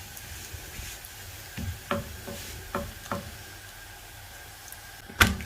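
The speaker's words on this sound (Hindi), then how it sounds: "तवा हमारा गर्म हो गया, इसमें मैं ये रैप डालती हूँ।" A chicken tikka wrap toasts on a hot tawa griddle with a faint, quiet sizzle, broken by a few soft knocks and taps and one sharper clatter near the end.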